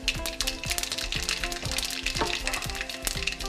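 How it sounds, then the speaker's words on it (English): Mustard and carrom seeds hit about five tablespoons of hot oil in a pan for a curry, giving a dense, steady sizzle with rapid crackling pops throughout, close and loud without any voices. "just listen to that popping sound"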